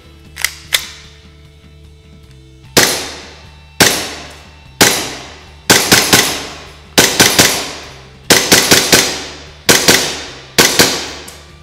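A WE Sig P226 two-tone gas blowback airsoft pistol fires close by: two light clicks, then about eight loud, sharp cracks. Some come singly and some in quick doubles or triples, each with a short metallic snap of the slide.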